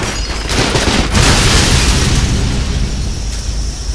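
A loud, sustained roaring blast with a crackling rumble that fills the whole stretch, a car explosion in the video game Spider-Man: Web of Shadows, with no voices.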